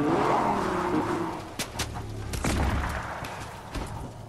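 Video game car driving around near a gas station, engine tone rising and falling with brief skids and tire squeals, fairly loud and steady with no talk.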